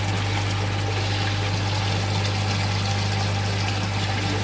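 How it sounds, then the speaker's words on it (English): Aerated water feed runs through a UV unit into a discus spawning tank, making a constant trickling, bubbling flow over a steady low pump hum. "And then you can see there the water feed coming through the UV that's recycling"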